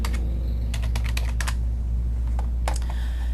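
Keys clatter on a computer keyboard as a web address is typed, coming in short irregular bursts of clicks over a steady low hum.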